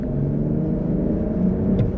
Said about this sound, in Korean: 가속할 때 엔진 소리가 좀 크다라는 부분을 말씀드렸었는데